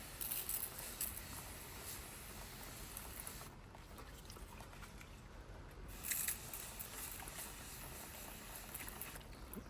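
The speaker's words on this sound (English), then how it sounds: "going to rinse the area here with some brake cleaner" Brake cleaner sprays and hisses steadily around the engine bay of a 2016 Mini Countryman 1.6 petrol, a faint continuous spray with short pauses and bursts, and no talking.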